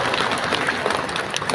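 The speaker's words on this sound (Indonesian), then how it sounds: "Maka tepuk tangan untuk Aisyah" A hall audience at a Muhammadiyah religious gathering breaks into applause for Aisyah, a dense, steady wash of many hands clapping throughout, loud and close with no speech over it.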